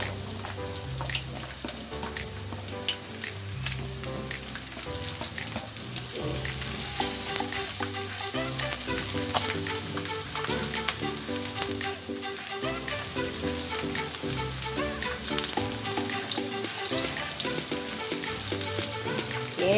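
Garlic and ginger fry in a pan for a fish dish, giving a steady close sizzle and crackle throughout with occasional stirring scrapes, no talking.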